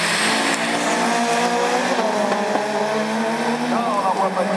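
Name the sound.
rallycross race cars starting, Division 4 at Lessay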